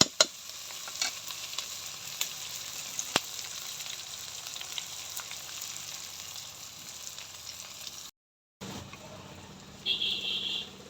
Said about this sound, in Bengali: পেঁয়াজটা ভালো করে লাল লাল করে ভাইজে তারপর মাংসটা দিয়ে দেবো।